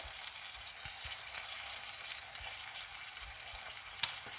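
Chopped tomatoes and cooked onions, seasoned with pepper and salt, fry in a pan with a soft, continuous crackling sizzle heard up close and alone, with a few faint clicks.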